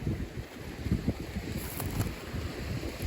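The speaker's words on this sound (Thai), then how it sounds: "ลมก็แรงแท้เนาะ" Strong wind gusts outdoors, buffeting the microphone with a steady, fairly loud low rumble across the whole stretch, with no voices.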